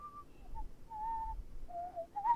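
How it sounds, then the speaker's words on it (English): A person whistles a short, wavering tune in the mobile game Frequency Missing, several brief notes close by against a quiet background. "you can now hear a person whistling."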